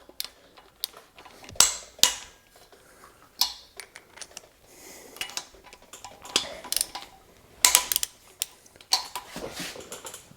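A wrench tightens cam housing nuts on a Porsche 964 engine during assembly, giving close, irregular metallic ticks and clinks with sharper clacks scattered throughout and no talking.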